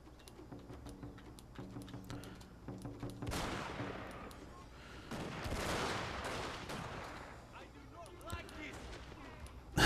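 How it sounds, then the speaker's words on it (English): Soldiers fire volleys of gunfire in the Total War Shogun 2 Fall of the Samurai video game, heard as a dense crackling burst of rifle shots that swells and fades under a low game soundscape, with no voices. "Now it's time to shoot them."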